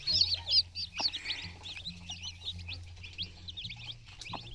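Tiny bantam chickens and chicks call nearby, with a stream of high, rapid peeping chirps over occasional soft clucks and a low background hum.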